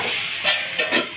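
Boiled broad beans frying in a pan with turmeric, salt and chilli, giving a bright close sizzle with three short louder spits over a steady hiss.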